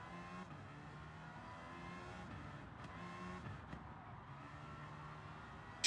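A Bugatti Veyron drives in the video game Gran Turismo 7, its engine a steady low hum held fairly quiet in the background with no clear revving peaks.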